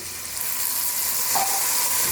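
Masala of turmeric and salt sizzles in a pan for turai ki sabzi just after a little water is added, a steady close hissing fry with a brief louder spurt partway through and no talking.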